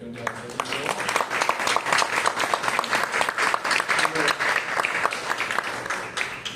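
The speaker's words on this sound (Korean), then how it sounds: "오늘 이 시간 두 분에게 내가 박수를 하고 싶어요." Lively audience applause at a church general assembly event, dense and rhythmic, swelling in pulses for several seconds, with some voices faintly under it.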